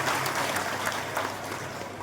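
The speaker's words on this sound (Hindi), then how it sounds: "उनको सबसे पहले हम लोग स्वागत एक बार ताली बजा के कर दें" Crowd applause at a political rally in Purnia ahead of a voter rights march, greeting a Rajasthan leader with a steady, dense wash of clapping.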